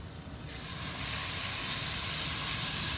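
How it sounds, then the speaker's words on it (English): Steak hitting a hot pan, an abrupt loud hiss that swells within the first second into a steady, close, broadband searing sizzle with no talking. "Now that that's up to temperature, in comes the steak"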